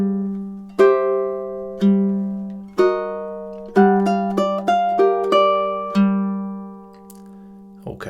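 Ukulele picking a slow TV theme melody over a steady low drone, one plucked note roughly each second and quicker notes in the middle, clear and close, ending on a short scrape.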